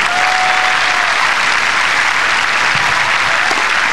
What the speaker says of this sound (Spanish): Fuerte el aplauso para Gorka Fraile.